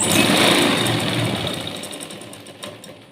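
A sewing machine runs a fast steady whir while stitching a blouse seam, loud and close, slowing and fading slightly toward the end with a small knock near the finish.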